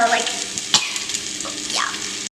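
Potatoes with ají amarillo, oil and oregano sizzle in a pot while a spoon stirs through them, giving close scraping and clinking over a steady fry.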